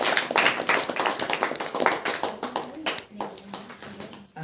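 A church congregation at a worship meeting claps in a quick, steady rhythm throughout, with a preacher's voice and singing running over the clapping.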